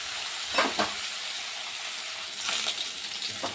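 Fish heads frying in hot oil give a steady, close sizzle throughout, broken by a few louder spatters and scraping turns of the pieces.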